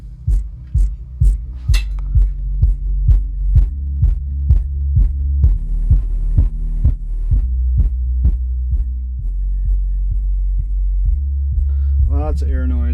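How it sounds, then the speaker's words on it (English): A Velodyne CHT-8 subwoofer with its rear screw holes left open thumps out a steady run of deep low pulses with chuffing air noise, over a constant loud hum, and settles into a drone near the end. "Got lots of air noise from the screw holes being open in the back."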